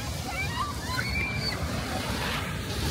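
Sea waves wash in a steady, unbroken roar close by, with wind buffeting the microphone throughout and no clear breaks between swells.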